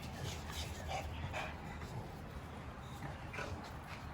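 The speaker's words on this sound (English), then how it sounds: "Gonna be some big, healthy puppies, man." Four-week-old puppies whimper and yip faintly in short scattered bursts over a steady, noisy room background.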